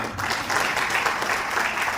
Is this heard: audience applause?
yes